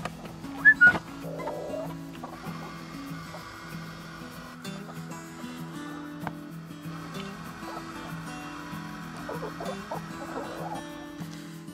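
Soft, intermittent clucking from several chickens over a low, steady background hum, with a couple of brief louder sounds near the start.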